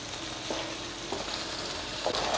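Stuffed eggplant frying in a pan on high heat, a dense steady sizzle with a few stirring scrapes, close and without talk.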